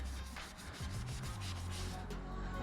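A wet cloth rubs the interior of a Volkswagen MK7 GTI in soft, close, continuous strokes, a low muffled swishing with no talking.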